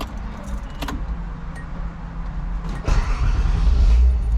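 Keys jangle, then an old Datsun 280ZX that sat unused for nine months cranks and fires up, settling into a low, steady idle that grows louder toward the end.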